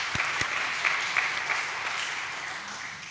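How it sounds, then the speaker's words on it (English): A seated audience at a county senior honoree event breaks into warm applause, a few sharp individual claps standing out at the start before the clapping settles into a steady moderate patter that slowly fades. "we can clap now"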